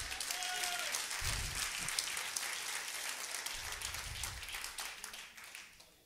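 A church congregation breaks into applause, a broad, steady wash of many hands clapping heard from a distance and fairly faint, lasting several seconds before fading out.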